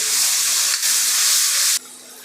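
Green chili and finely chopped tomatoes frying in a pan for Punjabi dhaba-style baingan bharta, a loud steady sizzle and hiss that drops abruptly to a softer sizzle near the end.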